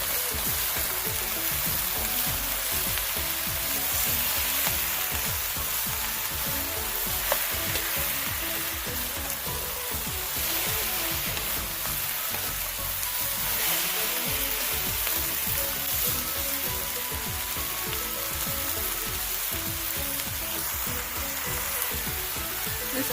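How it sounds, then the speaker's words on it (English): Chunky mixed vegetables sizzle and crackle loudly in a hot pan while being stirred, a dense steady hiss broken by scraping turns of the spatula, close and continuous with no talking. "Let's go ahead and give it a stir."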